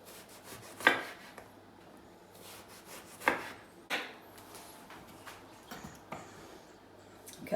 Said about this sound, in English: So literally just slicing that